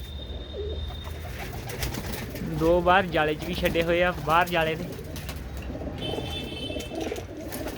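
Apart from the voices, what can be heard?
pigeons cooing in a net enclosure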